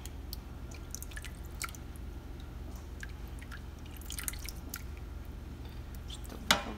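Water is poured into small cups of kholodets aspic, heard as soft intermittent trickles and drips close by, ending in a brief louder splash.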